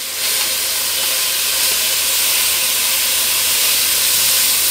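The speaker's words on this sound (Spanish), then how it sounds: "lo primero que yo voy a sofreír es el bacalao para que coja los sabores" Salt cod (bacalao) sautéing in a little oil in a caldero for a vegetable locrio, a steady loud sizzle and hiss that runs unbroken throughout without any voices.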